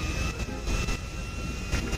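Airplane jet engine in the video game GTA V, a steady loud roaring whoosh held for the full stretch with little change, close and constant.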